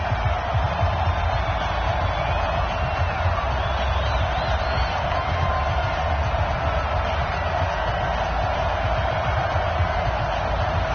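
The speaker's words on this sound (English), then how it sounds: "This crowd is ready as their guys get set to match up between the New York Jets and the Houston Texans." Steady stadium crowd roar from an EA Sports NFL video game ahead of a New York Jets versus Houston Texans kickoff, a continuous, even wash of massed cheering and chatter with no clear peaks, heard on its own.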